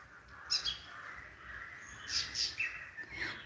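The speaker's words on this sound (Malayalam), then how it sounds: "കിളികളുടെ സൗണ്ട് അതെ അതെ ഇവിടെയൊക്കെ കിളികളൊക്കെ ഉണ്ട്" Faint, distant birds chirping in a few short bursts, with brief high tweets scattered over quiet background.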